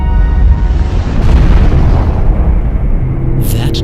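A huge cosmic Big Bang explosion effect: a deep, loud rumbling boom that swells and rolls on for several seconds, ending with a brief brighter crackle.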